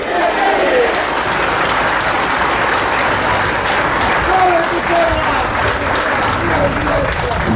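Speedway crowd at a Krosno meeting applauding rider Joshua, continuous dense clapping from a large audience, loud and sustained, with a voice faintly over it.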